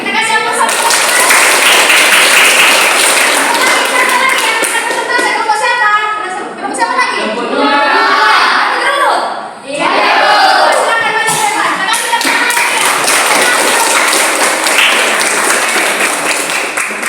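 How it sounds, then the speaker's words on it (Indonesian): Classroom applause from a group of students, a dense, steady clatter of clapping that holds for most of the stretch, dips briefly, then swells again, with children's voices mixed through it. "kita kasih aplaus"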